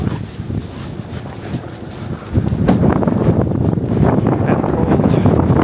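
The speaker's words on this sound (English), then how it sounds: "Oh, it's windy." Strong wind gusting outside a van parked in a snowstorm, roaring and buffeting the microphone, swelling louder after the first couple of seconds and staying heavy, with no talk.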